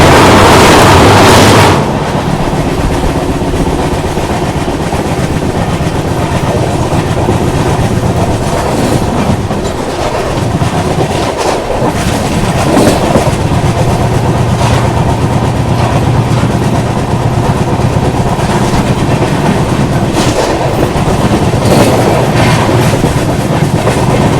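Indian express passenger train running over a bridge near Udhna Junction, wheels clattering in a steady, loud clickety-clack with a continuous low rumble throughout, no voices.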